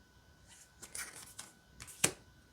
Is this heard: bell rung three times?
no